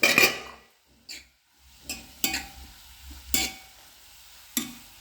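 Spoon stirring and pressing a roasting mixture in a covered pan set over glowing embers, giving several separate scraping clinks with a soft sizzle between them, close and fairly quiet.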